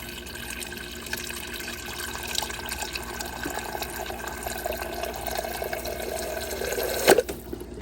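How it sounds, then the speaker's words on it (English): Water from a refrigerator dispenser runs through a new Whirlpool Everydrop water filter into a container, a steady thin trickle with light splashing, growing slightly busier and ending with a sharp clunk near the close. "just drain some water out of here."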